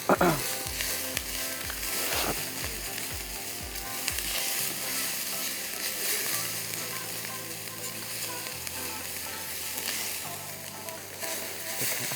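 Steady sizzling of something frying in a hot pan, with occasional stirring and low rhythmic thumps in the first few seconds; no talking.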